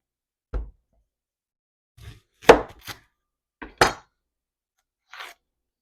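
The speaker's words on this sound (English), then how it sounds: "I'm going to go ahead and chop up some onion here" A knife chopping onion on a board, five separate sharp knocks with gaps between them, close and crisp, in an otherwise quiet kitchen.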